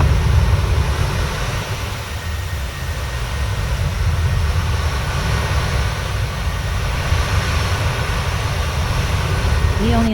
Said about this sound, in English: here's a look at what it sounds like outside the plane